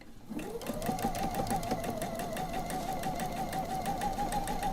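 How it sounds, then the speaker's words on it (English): A sewing machine runs at a steady high speed, stitching a quarter-inch seam on a mystery quilt. The whirring motor drone and fast needle rhythm are loud and close, with no talking. "now I'm going to sew with that perfect 1/4 inch seam."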